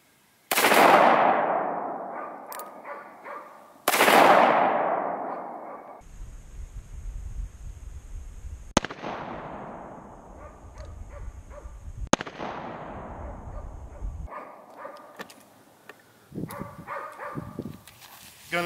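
Two loud, sharp gunshots from a .380 pistol fired at a backpack on an outdoor range, each followed by a long ringing decay, then a few softer impact-like bangs and faint movement.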